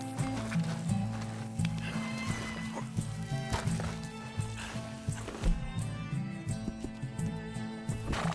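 Hooves clip-clop at a walking pace along a shore alongside a horse's whinny in Red Dead Redemption 2, set against a steady musical game soundtrack.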